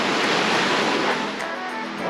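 Water rushing somewhere in the Slovak mountains near a summit, a steady broadband wash like a stream or small waterfall, continuous and fairly loud with no voices over it.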